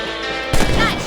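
A single sharp gunshot rings out mid-clip from a rabbit hunt in the Western game Red Dead Redemption, over a steady background hum and game music.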